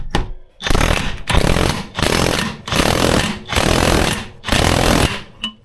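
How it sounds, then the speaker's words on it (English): A big hammer repeatedly belting a loaded breaker bar on a Discovery 300 TDI, six loud metallic blows in a steady rhythm, each ringing briefly before the next. "all I do is I load it up and then belt the crap out of that with a big old hammer"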